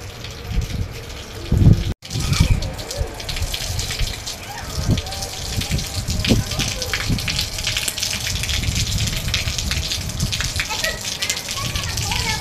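Heavy rain falls in a steady, dense wash that runs throughout, close and loud, with a voice and an adult's calls heard faintly over it.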